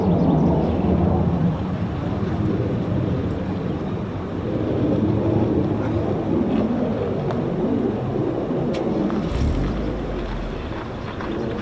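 A US Air Force F-15 or F-35 fighter jet of the 48th Fighter Wing at RAF Lakenheath, its broad loud roar rumbling overhead and holding steady, with wind buffeting the microphone.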